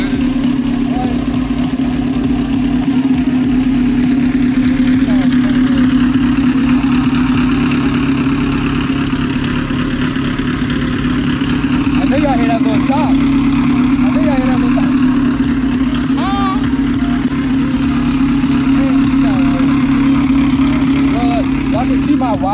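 A built B20V engine in a 1992 Honda Civic idles loudly and close with a choppy, loping rhythm, a steady low drone running throughout while someone speaks briefly over it.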